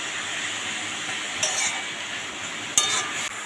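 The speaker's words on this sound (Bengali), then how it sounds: "ভালো করে নুন হলুদটাকে মিশিয়ে নেব" Papaya pieces cooking in a pan with salt and turmeric for a papaya ghonto with hilsa head give a steady frying hiss, broken by two distinct scraping strokes of a stirring utensil, near and with no speech.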